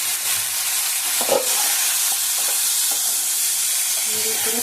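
Vegetables for shukto frying in a pan, a steady broadband sizzle throughout with a few soft clinks of stirring, close and fairly loud.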